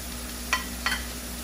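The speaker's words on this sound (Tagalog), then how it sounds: "So ako habang nagigisa ng bawang at sibuyas, dyan ko na sinasabay ang asin at ang paminta." Garlic and onion sauté in a pan with a soft, steady sizzle, broken by two quick stirring scrapes close by.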